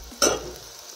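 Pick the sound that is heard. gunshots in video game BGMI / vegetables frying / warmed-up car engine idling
vegetables frying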